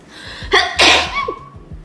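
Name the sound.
sneeze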